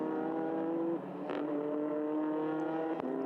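TCR touring race cars stream past at Spa-Francorchamps during the 2019 TCR Europe race, engines roaring loud and close in a continuous blur of overlapping revving, with pitch shifting as each car goes by.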